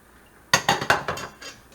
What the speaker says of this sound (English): And we stir that all together.